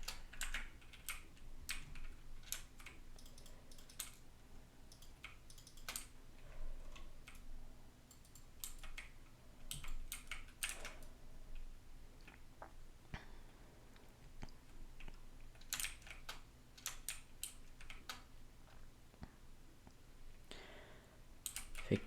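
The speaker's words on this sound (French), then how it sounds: "j'ai un clavier qui est très très bruyant" Very noisy computer keyboard typed on steadily for over twenty seconds during a Minecraft survival game, quick irregular clicks and clacks close up, with no talking.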